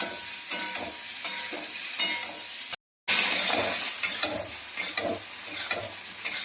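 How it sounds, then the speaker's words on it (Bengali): Eggplant pieces fry and sizzle steadily in a pan of mustard oil with dried red chilies while a spatula stirs them in regular scraping strokes, close and continuous, with a brief dropout partway through. "বেগুনগুলো একটু ভালো করে ভেজে নিই।"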